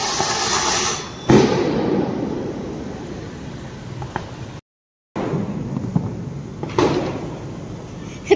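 Diwali firecrackers bursting outdoors, a sharp bang followed by crackling and rumbling tails, a brief drop to silence, then further pops and a final crack, loud and fairly close.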